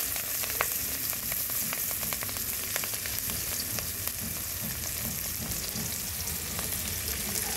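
Onion sizzles in hot fish-frying oil with bay leaf, sauce and green chilli, a steady loud crackle running unbroken throughout with scattered sharp pops and occasional stirring.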